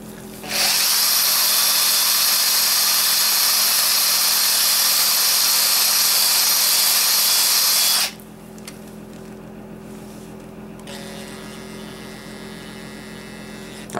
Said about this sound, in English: I'm going to put the end of this into the steel wool and just kind of push it. Almost like I'm trying to drill a hole.